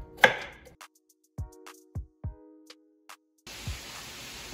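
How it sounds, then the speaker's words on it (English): A handful of sharp knife chops through a potato into cubes on a cutting board, spaced irregularly with quiet gaps between, close up, ending in a burst of broadband noise. "I'm gonna go ahead and cut this potato a little bit small in cubes"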